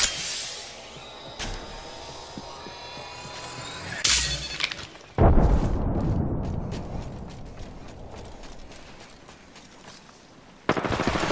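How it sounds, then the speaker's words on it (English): Gunfire in Apex Legends, sharp close shots and impacts with rapid bursts of automatic fire and some mechanical clatter, loud at the start and gradually thinning out. "I'm getting shot, I'm getting shot at"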